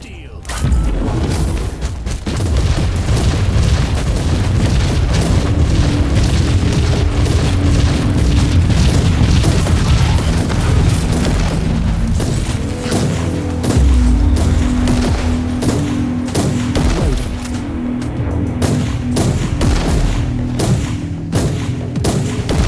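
Heavy booming grenade explosions in the video game Inquisitor Martyr, a dense continuous barrage of loud thuds and blasts layered over rumbling battle noise for the whole stretch.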